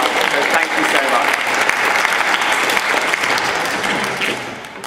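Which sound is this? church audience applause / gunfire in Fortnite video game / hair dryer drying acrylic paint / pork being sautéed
church audience applause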